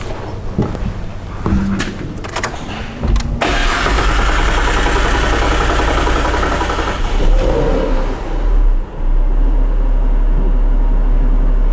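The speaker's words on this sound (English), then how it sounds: "Alright, the engine revs good now." A 2010 Ford Falcon FG engine, recently treated for lack of power, starts and revs loudly up close, then holds a steady, strong drone with a brief dip before settling at high revs.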